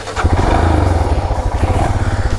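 A Royal Enfield Himalayan motorcycle engine revs loudly and close by, with a steady low throbbing pulse that rises and falls over a couple of seconds, with no voices.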